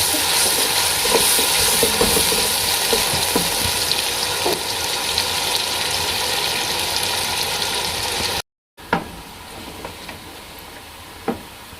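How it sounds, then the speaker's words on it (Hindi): Onions frying in oil until brown for Lahori chikar chole, a steady close sizzle with scraping stirs throughout, a brief dropout, then quieter sizzling with a few sharp clinks of a spoon against the pan. "इधर ये प्याज ब्राउन हो गए हैं"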